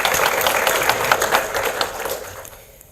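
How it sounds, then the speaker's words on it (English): A conference audience at a V2X technology event applauds, a dense wash of many hands clapping at steady strength before tapering off toward the end. "He deserves another round of applause for continue pushing the technology forward."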